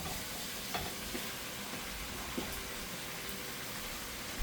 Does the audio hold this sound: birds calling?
no